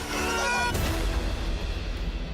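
A chicken in the Sea of Thieves video game gives a short run of clucks, strongest during the first moment, then trails off into a low background rumble.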